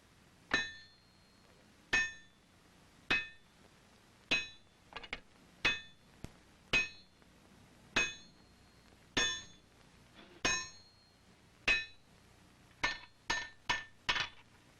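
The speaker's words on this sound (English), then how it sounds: "Here he will heat and hammer a bar of solid wrought iron into a flat scalp" A bar of solid wrought iron is hammered at a forge in ringing, metallic blows, about twenty strikes in an uneven rhythm with some quick clusters near the end, each clear and bright against a quiet background.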